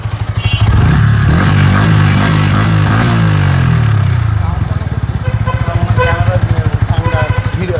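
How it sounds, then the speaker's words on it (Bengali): An MT-15 motorcycle engine idles with a steady, close putter, briefly revving up and settling back down, while someone talks over it. "আমি গাড়ির সাউন্ডটা দেখাই, সাউন্ড না দেখলে আপনারা বুঝতে পারবেন না"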